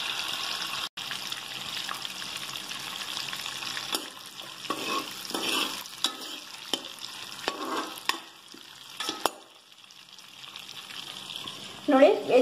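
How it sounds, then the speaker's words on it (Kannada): Peppercorns, cinnamon and bay leaf frying in butter for vegetable pulao give a steady close sizzle with scattered stirring clatters, ending in a brief louder burst. "ಸ್ವಲ್ಪನೆ ಮೆಣಸುಕಾಳು ಹಾಗೆ ದಾಲ್ಚಿನ್ನಿ ಪಲಾವೆಲೆ ಹಾಕ್ತಾ ಇದೀನಿ ಫ್ರೆಂಡ್ಸ್ ಸ್ವಲ್ಪ ಬೆಣ್ಣೆಯಲ್ಲಿ ಇದು ಫ್ರೈ ಆಗಬೇಕು"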